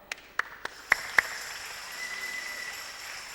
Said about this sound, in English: So if you're clapping